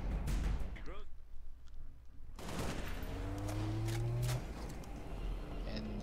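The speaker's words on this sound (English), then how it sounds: "And of course, they got grenade launchers on me too." Enemy grenade launcher fire in Halo: sharp bursts and explosions up front, a short lull, then heavy combat noise with whining projectiles and rumbling blasts, loud and chaotic.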